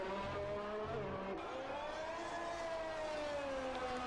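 A Mercedes Formula 1 car on a hot lap around the Australian Grand Prix circuit in a racing game: a high, steady engine whine rising and falling through the gears, heard alone at a moderate level.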